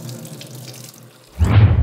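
Tap water gushes into a kitchen sink while a cast iron skillet is scrubbed with soap and a scrubby pad, a quiet rinsing patter first, then a loud steady rush of running water near the end.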